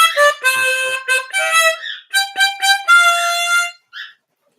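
Harmonica practice phrase played close and loud: a run of separate bright reedy notes in short uneven bursts, several held briefly, ending with a small detached note after a pause.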